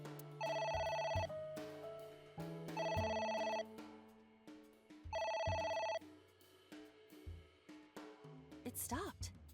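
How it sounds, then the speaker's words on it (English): An old-style telephone bell rings in the video game AI: The Somnium Files, sounding in three long repeated bursts that keep going, while a voice talks over it between rings. "It won't stop ringing."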